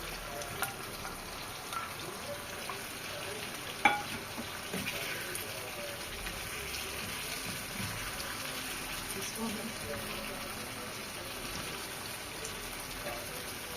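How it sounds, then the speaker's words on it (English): Fried meat stirred into a pot of Nigerian yam porridge, giving a steady close sizzle and bubbling hiss with occasional clicks of a utensil, and a voice faintly under it. "I add the meat. The fried meat that I set aside."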